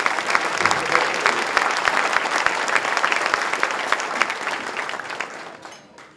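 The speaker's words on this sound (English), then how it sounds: "For another round of applause for Chris Canales" Dense, sustained applause from a large audience at a sports hall of fame induction ceremony, steady and full before fading out in the final second.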